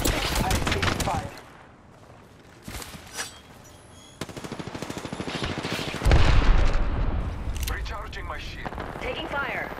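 Rapid bursts of video game gunfire crackle in dense volleys, swelling louder toward the end amid a chaotic firefight, with voices talking over the action.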